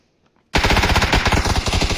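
A dense, loud burst of rapid gunfire erupts after half a second of near silence and runs continuously to the end, a rattling volley in a video game where an M24 sniper rifle was called for.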